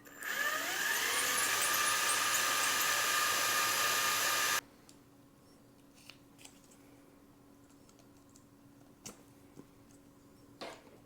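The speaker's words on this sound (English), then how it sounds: "here with my drill, widen up these holes." A power drill widens holes in a foam board model aircraft wing, running as a loud steady whine that cuts off abruptly after several seconds, followed by quiet room sound with a few small clicks.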